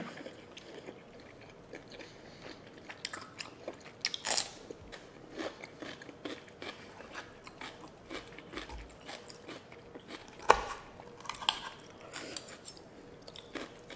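Someone chews through a spicy Thai seafood salad with shrimp and squid, with soft, close mouth sounds and intermittent crunchy bites scattered through a quiet background, a couple of louder crisp bites standing out.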